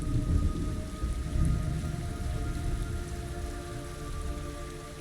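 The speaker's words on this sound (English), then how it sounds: "It's raining blood." Heavy steady rain with a low rumbling storm texture in the video game Metal Gear Solid 3 remake, a continuous loud wash with no voices.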